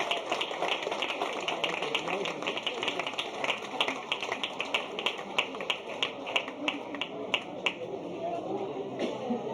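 Athletes walk in at a regional youth track meet to steady applause from a crowd, a dense patter of claps with a few sharper hits standing out, while an announcer talks over it.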